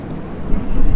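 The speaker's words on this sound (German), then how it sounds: "heute ist es sehr windig" Strong wind buffets the microphone on a beach, a loud rumbling gust that builds toward the end of the brief moment.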